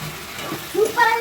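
Masala with ginger garlic paste frying in a pan for a Sunday non-veg biryani, a soft close sizzle and hiss with a couple of brief stirring swells near the end.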